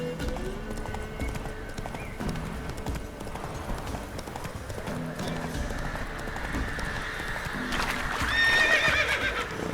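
Roach, a horse in The Witcher 3 video game, gallops with rapid rhythmic hoofbeats and whinnies loudly near the end, accompanied by a speaking voice and a steady game background.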